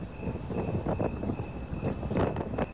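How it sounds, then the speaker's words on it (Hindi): Strong gusting wind during a dust storm buffets the microphone as a steady roaring rumble with repeated surges, filling the whole stretch with no talk. "इस वक्त तेज़ हवा और आंधी चल रही है, बहुत ज़्यादा तेज़ हवा है"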